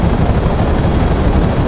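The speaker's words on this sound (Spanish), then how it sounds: "Las aspas del helicóptero pues te revientan" Helicopter rotor blades in a video game thump and whir loudly and steadily, forming a dense, continuous wash of rotor noise with no talk over it.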